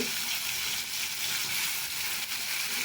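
Ground tomato and onion paste frying in a pan after garlic, a dense continuous bright sizzle heard up close and fairly loud, with no speech over it.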